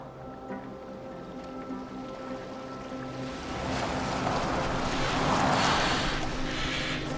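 A sailing boat moves across open water in Assassin's Creed Valhalla: a low steady drone of wind and hull at first, then a rising wash of waves and spray swelling loudly before easing slightly, with no voices.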